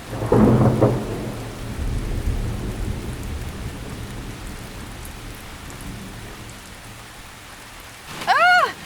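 A thunderstorm with rain, opening with a loud rumble of thunder that fades into a steady wash of rainfall, and a brief sharper burst near the end.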